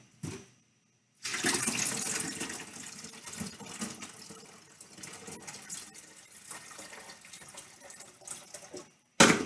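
Water poured into a Zero water filter pitcher, a loud steady gushing stream running for several seconds with splashy variation, starting abruptly after a short pause and cutting off near the end, with no talk.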